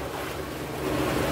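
A boat with a brand-new Yamaha outboard engine passes on open water off Bali, its motor a low droning hum beneath steady wind and wave wash that swells slightly louder as it goes by.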